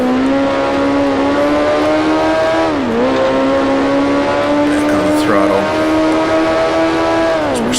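A vintage race car engine in Grand Prix Legends on the Isle of Man Mountain Course, a loud steady howl that dips sharply as it downshifts into second gear, then climbs again. Engine pitch drops again briefly later on.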